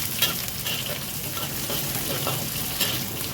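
Chilies are dropped into sardines simmering in spicy sauce in a pan, a continuous close sizzle and bubbling hiss with occasional light stirring clicks, fairly loud and steady, no talking.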